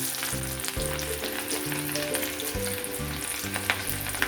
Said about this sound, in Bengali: প্রথমে গাজরগুলো দিয়ে দিচ্ছি।